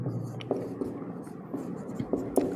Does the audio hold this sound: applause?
no